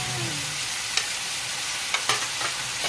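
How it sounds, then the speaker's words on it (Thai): Minced pork with cucumber, basil and chili being stir-fried in a pan, a steady close sizzle with a few sharp spatula scrapes and clinks against the metal. "ก็ผัดเข้ากันค่ะ"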